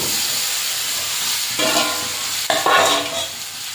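Fried ridge gourd and potato pieces tipped into hot spice paste sputtering in oil, a constant loud sizzle that swells sharply as the vegetables land, with a second burst and stirring noises after.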